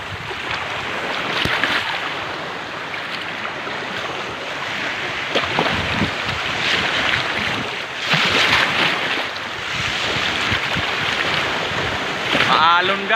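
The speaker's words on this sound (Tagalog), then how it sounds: "Maalon. Maalon dito sa dagat." Rough sea surf at a beach in Dangcalan, Sorsogon rolls and crashes in broad noisy swells, with wind buffeting throughout and a voice talking over the waves near the end.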